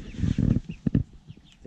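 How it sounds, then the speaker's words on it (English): Small backyard flock of barred rocks, golden comets, an Australorp and a Jersey giant clucking near a coop, a short burst of close, low murmuring clucks followed by a few quieter soft calls. "We got chickens out here."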